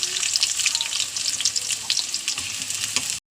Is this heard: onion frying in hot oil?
yes